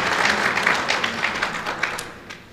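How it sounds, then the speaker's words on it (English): An audience at an electoral commission review event applauds, a brisk burst of clapping from many hands that fades out toward the end. "I think you deserve to clap for yourself for the service you rendered at this time."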